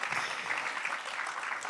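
Applause from the audience at the Erase Indifference Challenge Gala 2024, a short, steady patter of clapping with no voices over it.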